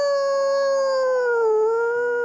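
A dog howls in one long, sustained, wavering note with strong harmonics, rising slightly and dipping before steadying, loud and close.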